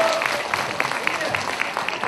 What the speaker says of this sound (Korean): 박수로 다시 한번 받으시면 감사하겠습니다